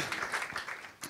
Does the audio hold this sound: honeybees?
no